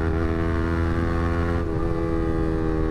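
A Yamaha R15M motorcycle with a faulty fuel pump, held at full throttle in third gear, produces a loud, continuous harmonic engine drone that shifts abruptly partway through. No one speaks.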